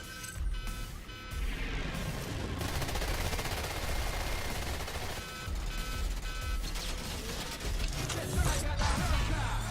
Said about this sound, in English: who needs gold plate chain guns?